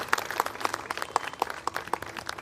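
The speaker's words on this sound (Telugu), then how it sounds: "నిజంగా ఒకసారి గట్టిగా చప్పట్లో" An audience at an Ugadi awards function claps, producing a short patter of applause that sounds fairly distant and moderately quiet.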